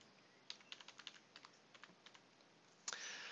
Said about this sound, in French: je clique deux fois, par exemple ici, et je tape ici étymologie